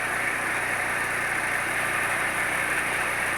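A homemade jugaad fan, built with a rechargeable pump battery and a speed button, spins fast and gives a steady, even whirring drone with a bright, hissy edge. It runs close and unbroken, with no talk over it.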